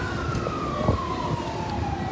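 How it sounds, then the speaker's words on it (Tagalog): A fire truck siren at a warehouse fire in Las Piñas wails steadily with a slowly falling tone, loud and close, over a rumble of road traffic and engine noise. "Ayun na, dumagdag na naman ulit yung fire truck."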